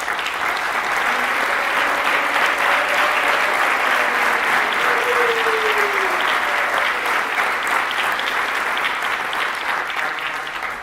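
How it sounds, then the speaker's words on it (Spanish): Loud, sustained applause from a forum audience in Santiago welcoming the guests: a thick, even wash of many hands clapping for about ten seconds, with a brief tonal flourish rising partway through. "Yo les pido un aplauso para ellos"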